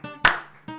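A single sharp clap lands over cumbia music with a steady sung or keyboard tone at a live Argentine cumbia broadcast show, loud and close, with the music continuing on either side.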